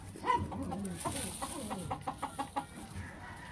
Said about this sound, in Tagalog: Ang tandang nangingitlog ng Angry Bird.